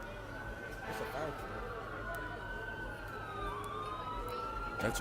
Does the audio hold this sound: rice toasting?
no